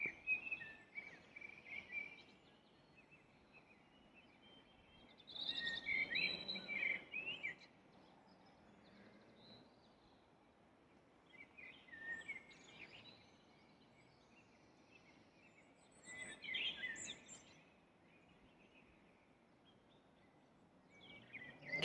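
Faint birdsong outdoors comes in scattered bursts of high chirps and trills, some nearer than others, over a quiet background with soft insect-like hiss.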